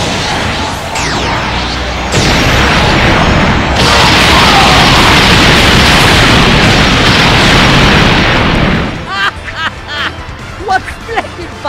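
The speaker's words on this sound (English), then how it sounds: "Beautiful fireworks!" Fireworks burst in Frieza's special attack animation in the Dragon Ball Legends video game, a loud, continuous roar of explosions and crackling that ends in scattered sharp pops, with a voice briefly audible.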